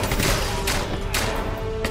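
Rapid gunfire rattles in James Bond 007 Legends, a loud burst of repeated shots with several sharp cracks close together, no talking.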